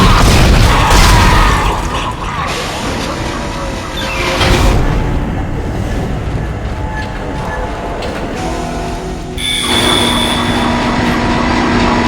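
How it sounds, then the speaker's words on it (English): A damaged tram car is swapped out in Dead Space, heavy mechanical rumbling and a deep boom rolling through the rail system, loud and close, ending with a sharp clank as machinery settles into a steady hum. "Replacing damaged tram car."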